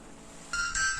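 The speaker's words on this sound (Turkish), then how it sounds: "Çalıyor." A Babysmart children's GPS smartwatch with a SIM card rings with an incoming call: an electronic ringtone starts abruptly halfway through, close and moderately loud, with a second tone joining, and no talking.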